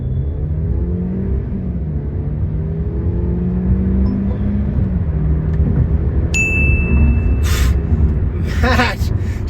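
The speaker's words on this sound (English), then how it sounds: "doing 0 to 100 in C-Class in sports mode" A Mercedes C-Class in sports mode accelerates from rest to 100 km/h, its engine droning and climbing through gears inside the cabin, with a sharp chime near the end and a voice speaking over it.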